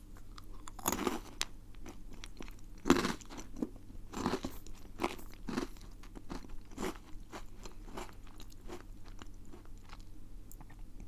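A chocolate cream snack being eaten up close, with crunchy bites followed by steady, moist chewing and occasional crackles, under a faint background hum.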